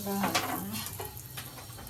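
Asafoetida sizzles in hot oil in a pan on a gas stove while Malvani-style pomfret fry is made, a steady close frying hiss with faint stirring and utensil clinks and a voice speaking briefly over it.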